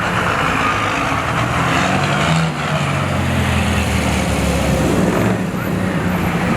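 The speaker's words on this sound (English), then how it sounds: "I love when it's the big truck." A big truck rolls past on a street during a Longmont cruise night, its loud, steady engine rumble and road roar filling the scene from start to finish, with a brief dip midway amid general traffic noise.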